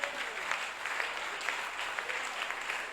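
A church congregation clapping together, a dense, steady, moderately distant applause with rhythmic peaks, no voices standing out.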